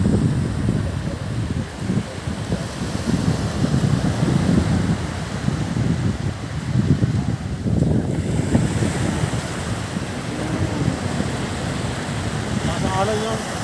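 Sea waves break and wash steadily on a shore in Candelaria, Zambales, a dense continuous roar with gusty wind noise on the microphone, and voices talking faintly underneath.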